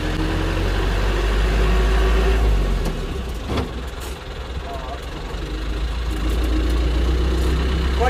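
Steady, loud engine drone from a modified van, a low rumbling idle running continuously throughout with a slight dip midway, a voice speaking over it.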